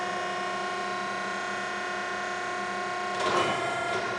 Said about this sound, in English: Later, open the hydraulic station.